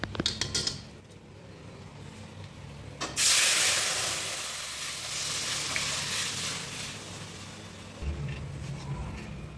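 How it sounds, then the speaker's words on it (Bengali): Spices and dried red chillies tempered in hot oil for pressure-cooked dal, a loud burst of sizzling and hissing that swells suddenly, then settles into steady frying with stirring, no talk. "আমি ফোড়ন দিয়ে দিলাম।"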